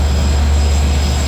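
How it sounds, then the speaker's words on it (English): A Long Island Rail Road train pulling out of Port Jefferson station, a loud continuous low rumble and engine drone with a steady high whine, close by and alone. "Another train leaves Port Jefferson."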